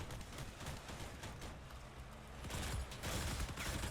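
Drill weapons grinding into an enemy vehicle in the game Crossout, a continuous harsh mechanical rattle and churning noise, fairly faint and steady, swelling a little louder toward the end.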